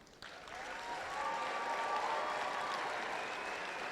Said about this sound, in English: can we just give a big thank you applause to all of our volunteers